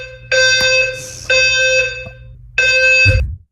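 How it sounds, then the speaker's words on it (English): An apartment fire alarm going off at night, loud piercing electronic beeps in long repeated blasts separated by short gaps, close and harsh, ending with a low thump. "Do I have any legal rights to the fire alarm going off in the middle of the night all the time?"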